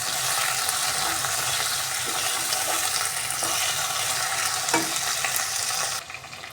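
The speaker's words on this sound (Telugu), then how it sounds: "మనము కట్ చేసి పెట్టిన ఈ క్యాప్సికమ్ క్యారెట్ ఇలాగే ముక్కలను వేసి ఫ్రై చేసుకున్నాము" Chopped capsicum and carrot pieces fry in a pan with a loud, continuous hiss and crackle and occasional stirring scrapes, and the sound drops off abruptly near the end.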